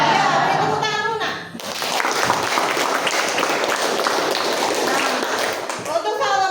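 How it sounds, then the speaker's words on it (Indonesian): Students in a mathematics classroom clap for a classmate, a few seconds of scattered hand clapping framed by children's voices talking before and after. "beri tepuk tangan Luna"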